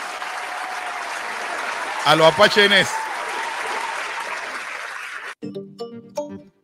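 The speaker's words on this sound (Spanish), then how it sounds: "Yo me aplaudo yo mismo." A man applauds himself, giving a steady, dense clapping that lasts about five seconds at moderate loudness before a voice briefly speaks.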